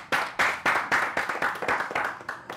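Applause during a rap music show, heard as about ten sharp, separate claps in an irregular rhythm, loud and close with no voices over them.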